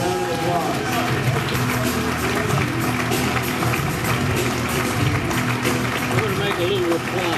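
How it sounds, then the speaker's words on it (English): Loud, dense applause from a large audience welcoming Mr. John King, an English professor introduced to the Crespi community. The clapping is steady and continuous throughout and mixed with crowd noise. "Please give him a round of applause."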